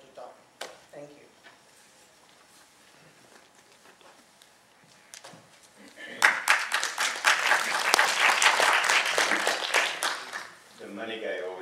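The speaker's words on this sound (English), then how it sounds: "The money guy always gets the applause." An audience applauds after a talk at a health and nutrition entrepreneurs event, the clapping swelling suddenly after quiet murmurs and scattered sounds, staying loud for several seconds before tapering into a voice.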